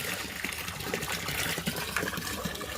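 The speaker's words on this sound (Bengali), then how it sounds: "এই যে জল আরেকটু দিলে হয়ে যাবে মোটামুটি।" Water pours into a container in a steady, close splashing gush with small bubbling trickles throughout, fairly loud and with no voices.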